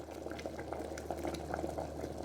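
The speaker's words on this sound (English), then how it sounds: "so I will let it continue to boil this way" Coconut oil boiling hard in a pot on the stove, splashing: a continuous close bubbling and popping with a steady, busy crackle throughout.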